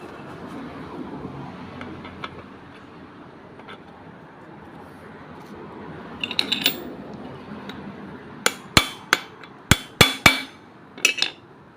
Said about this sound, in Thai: เสร็จแล้วก็ใช้ค้อนตอกแบบนี้เลยนะครับ